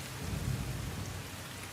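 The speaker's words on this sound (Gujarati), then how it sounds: "નર્મદા જિલ્લામાં ધોધમાર વરસાદ" Heavy monsoon downpour in Narmada district, Gujarat, with a continuous dense hiss of rain and low rolling thunder underneath, steady and without voices.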